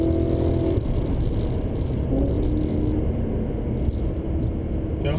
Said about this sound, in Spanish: es el sonido del motor V8 que monta